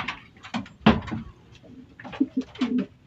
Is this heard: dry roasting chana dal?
no